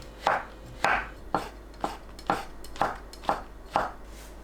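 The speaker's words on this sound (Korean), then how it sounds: "표고버섯은 갓과 대를 나눕니다. 갓을 채 썰어주세요." Kitchen knife julienning shiitake mushroom caps on a cutting board, eight evenly spaced crisp chops in a steady rhythm, close and clear with nothing else heard.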